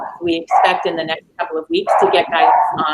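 A pet dog barks and yips in the background while a person keeps talking over it during an online school committee meeting.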